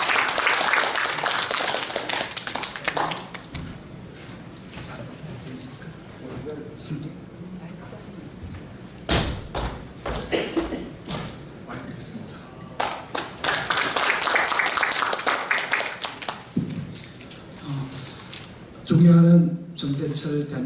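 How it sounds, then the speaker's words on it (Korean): A crowd applauds in bursts of clapping that swell and fade, with voices and announcements in between. "박수로 맞아주시기 바랍니다."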